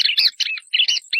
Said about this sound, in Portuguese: Coleira garganta branca.